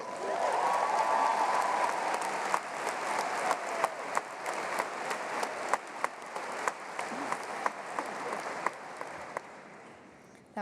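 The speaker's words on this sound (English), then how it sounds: "That was worthy of clapping over." Graduates and guests at the Elon University commencement applaud steadily, a broad wash of clapping that gradually thins into scattered individual claps before fading out.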